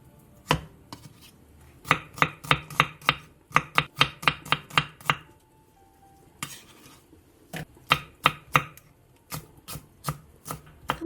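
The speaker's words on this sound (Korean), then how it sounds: "무 3분의 1개를 2cm 정도 두께로 자른 뒤 다시 먹기 좋은 크기로 큼직하게" A knife chops a third of a radish into large chunks on a cutting board, with sharp, close thuds in quick bursts separated by pauses and a few slower single cuts.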